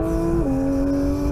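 Race car engine accelerating hard out of a corner under full power, a loud steady high-pitched drone that shifts pitch once partway through, close and continuous with no talk.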